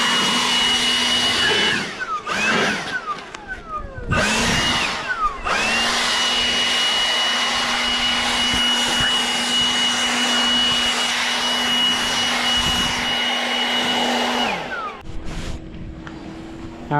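A leaf blower clears debris off a newly set pool liner at a DIY backyard pool build, running loud and close with a steady whine that briefly cuts out and revs back up a few times before settling lower.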